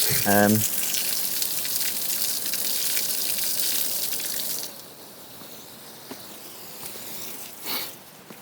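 Water gushes and splashes steadily from a pipe onto a tree beside a canal in England for several seconds, then cuts off, leaving quieter outdoor ambience with a brief voice at the start.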